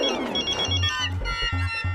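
A mobile phone rings through a busy, tonal background, its short repeating ringtone pulses sounding in a steady rhythm for about two seconds.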